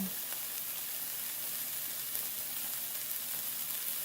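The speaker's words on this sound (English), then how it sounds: "It's just making the onions cook." Onions frying on high heat in a pan, with a steady close hiss of sizzling oil holding at an even level throughout, without talk.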